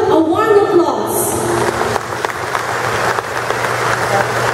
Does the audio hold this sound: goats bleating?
no